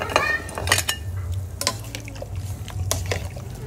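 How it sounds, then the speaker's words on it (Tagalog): Bulalo soup with corn being stirred in a pot, a utensil clinking and scraping against the metal in quick, close bursts amid soft sloshing liquid. "Yan, haluin po natin."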